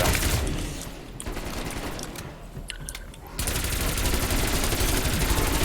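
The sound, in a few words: pack-a-punch guns firing in a video game zombies mode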